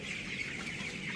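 Seventeen-day-old cockerels cluck and chirp together in a poultry shed, a soft, continuous flock chatter with no one speaking.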